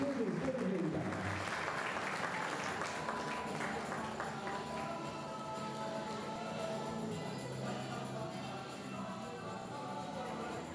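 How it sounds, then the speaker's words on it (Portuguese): An audience at a Panathlon sports memory ceremony applauds an honoree, sustained clapping continuing under a voice speaking early on. "Uma salva de palmas para a nossa homenageada, Armanda Santos Nunes de Oliveira."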